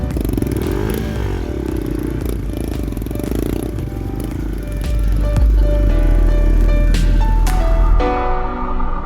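Trail motorbike ridden outdoors, engine droning and surging loudly with clattering and scraping over rough ground, building heavier toward the end before cutting off.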